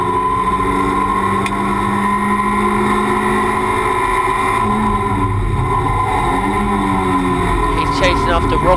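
A Toyota MR2 race car on board at Brands Hatch, its engine droning loudly with shifting revs and tonal whine throughout, while a commentator talks over it.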